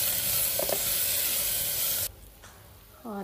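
Sliced onions sizzle steadily on low heat in a pan with turmeric and salt, a constant bright hiss that cuts off abruptly partway through.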